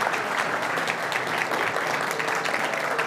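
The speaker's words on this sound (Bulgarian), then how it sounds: "Бурни аплодисменти за Милен!" Steady, dense applause from a conference audience at a digital business summit, welcoming a speaker to the stage; continuous clapping fills the room without a break.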